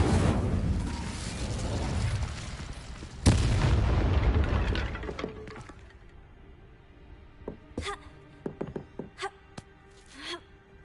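Incendio fire spell cast in Hogwarts Legacy, a loud roaring whoosh and boom that surges, hits a second burst, then fades into scattered crackles and small pops.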